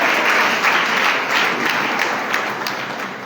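A church congregation applauds people who have given testimonies, a dense, continuous wash of clapping from a crowd, fairly loud and steady for a few seconds.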